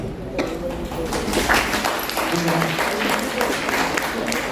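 An audience claps at the inauguration of a folk singing and performance event, a dense continuous patter of many hands that swells slightly midway and holds steady, heard fairly close with no clear speech.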